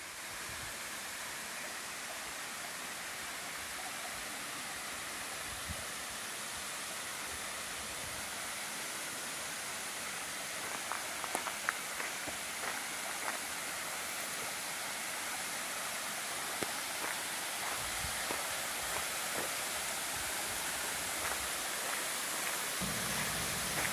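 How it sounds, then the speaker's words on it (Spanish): Water pours steadily from the outlet of a dam, seen from below, as a broad, continuous rushing roar that stays even throughout, with faint scattered clicks on top and no voices. "Miren la salida de agua ahí, ¿eh?"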